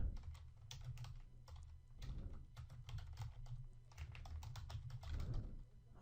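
Steady close typing on a computer keyboard while writing web code, quick clusters of key clicks with brief pauses between bursts, soft and alone over a low room hum.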